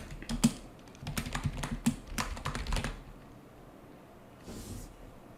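Computer keyboard keys clatter in a quick, close burst of typing for about three seconds as a commit message is entered, then stop, leaving a quiet room with a faint soft rustle near the end.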